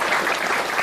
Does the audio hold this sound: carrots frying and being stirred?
no